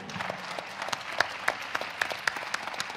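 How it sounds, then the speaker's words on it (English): An audience applauds at a personal development event, a steady patter of many hands clapping at moderate volume for a few seconds. "Again, a big clap for you."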